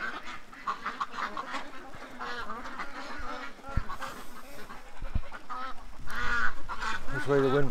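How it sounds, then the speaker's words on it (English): Ducks and geese at a lake keep up a busy, overlapping chorus of quacks and honks, close and loud and growing denser toward the end, with a few brief knocks in between. "There's the little duck."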